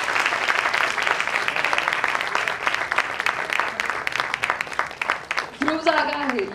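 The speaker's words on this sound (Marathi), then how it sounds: "डॉक्टर सवेरा सरांसाठी जोरदार टाळ्या." Enthusiastic applause from an audience of about a hundred people, including visiting crown ambassadors, at a New Year celebration, steady dense clapping filling the room for several seconds before a voice cuts in near the end.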